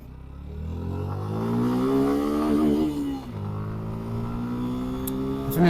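A 2025 Suzuki Gixxer SF motorcycle engine revs up while riding. Its pitch climbs steadily, dips briefly, then holds at a strong, close, continuous drone.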